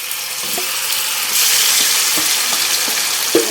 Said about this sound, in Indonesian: kita tambahkan ikan yang sudah kita bumbui tadi ya. Kita masukkan, kita tumis